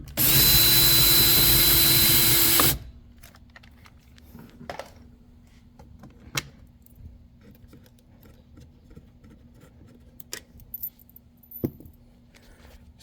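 Power tool, likely a drill, running loud and close for about two and a half seconds as it backs out two 7mm bolts from a 2024 Chevy Trax door panel, followed by faint clicks and handling noises.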